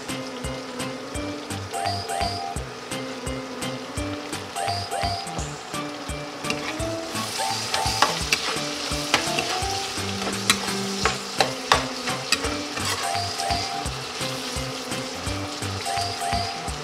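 Pork cubes sizzle steadily in a pan while being stirred, with scraping and clinking from a utensil getting busier midway through. The frying stays close and moderately quiet, with no talking.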